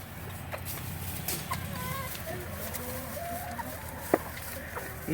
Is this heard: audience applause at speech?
no